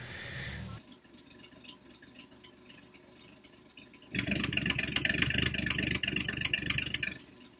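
A car engine idles low, then at about four seconds, as a homemade exhaust cutout is opened, turns much louder and rougher with a raw, open exhaust rumble that holds steady.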